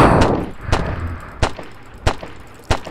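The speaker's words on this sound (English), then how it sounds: "We need a pistol to shoot Pikachu" Pistol fire in a Pikachu-themed video game: five sharp, evenly spaced single shots, each a loud crack with a short tail, heard alone.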